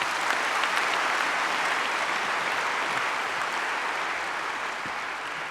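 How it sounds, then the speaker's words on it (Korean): A church congregation applauds the church orchestra, steady dense clapping that fills the sanctuary for several seconds, loud and continuous, then easing slightly toward the end. "한번 이 시간 박수해 주시기를 바랍니다"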